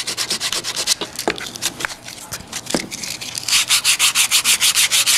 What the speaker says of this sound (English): I removed a lot of epoxy from this corner